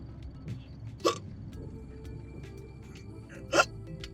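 Two sharp, isolated hiccups about two and a half seconds apart, close and fairly loud against quiet room tone.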